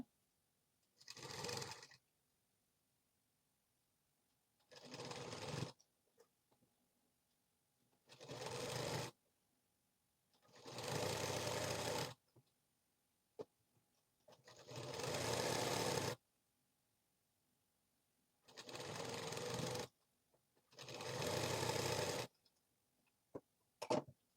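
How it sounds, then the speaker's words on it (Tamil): A sewing machine stitching blouse panels runs in seven separate bursts of a few seconds each, a close, loud whirring motor with quiet pauses between runs. "அப்படியே தையல் போடுங்க"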